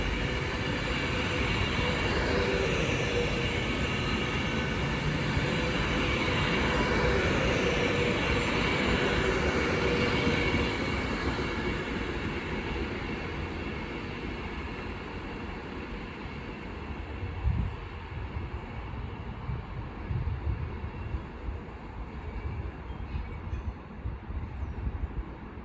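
Class 390 electric train passing through Stafford on the West Coast Main Line, a loud sustained rush of wheels and wind that swells, then slowly fades with rumbling wheel noise toward the end.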